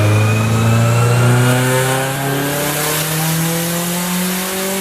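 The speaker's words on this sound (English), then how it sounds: "A tile blow-off valve keeps the pressure under control while delivering that iconic turbo surge between shifts." Turbocharged Subaru WRX engine with a blow-off valve revving up loudly and steadily, its pitch climbing smoothly through a sustained pull with no voices.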